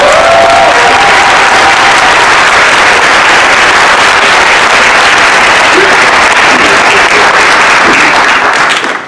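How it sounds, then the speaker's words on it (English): Loud, dense applause from a large audience for the event organizers at a DACA panel discussion and release celebration, a steady roar of clapping with some cheering throughout. "So let's start off by giving all the organizers a round of applause."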